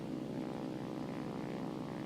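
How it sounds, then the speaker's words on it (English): A propeller plane engine drones steadily in War Thunder during a dev server test flight. The hum is constant, even and moderately loud, with no change in pitch and no voices over it. "Seems like a nice little plane."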